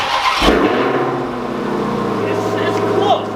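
A car with a weak battery cranks briefly during a jump start, catches with a burst and settles into a steady, close engine idle, with voices faintly around it.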